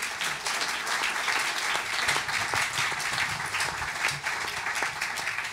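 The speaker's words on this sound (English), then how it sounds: "At last, you get some applause" An audience at a university public talk on valuing the planet applauds, a dense, even wash of clapping that holds steady for several seconds.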